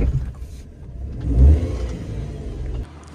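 A car accelerating under load, as when climbing an incline, gives off a low grinding rumble that swells to a loud peak midway, then settles into a steady whir before dropping off.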